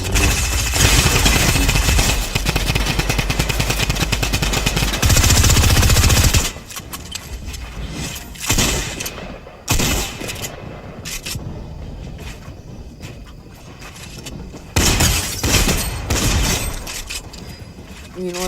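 Video game gunfire being spectated bursts loudly in a dense, sustained volley for the first few seconds, then sporadic shots follow under someone talking.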